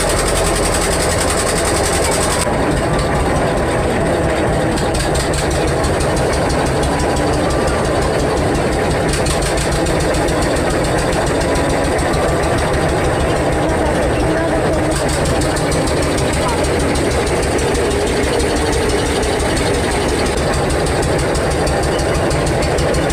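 A ferry boat carrying people, bicycles and motorbikes across the river at Mayapur runs its engine with a loud, steady, rattling drone throughout, while people talk over it.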